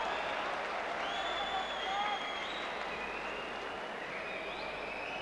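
Boxing arena crowd at the end of the third round of a heavyweight bout, a steady broad roar of cheering and applause filling the whole stretch, dense and continuous with no clear breaks.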